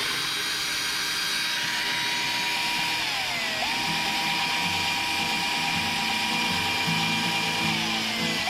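A power drill countersinks a hole in a skateboard deck. The motor gives a steady, close whine that dips briefly in pitch as the bit bites. A constant noisy rush sits underneath.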